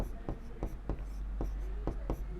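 A maths solution being written out by hand: quick rhythmic scratches of pen or chalk, about eight distinct strokes at a brisk, regular pace over a low steady hum, close and fairly quiet.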